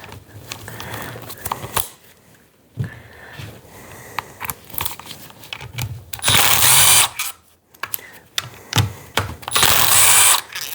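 A ratchet loosens bolts on a 6L80 transmission valve body, clicking in quick bursts up close, pausing between pulls, with louder stretches of rapid metallic clatter near the end.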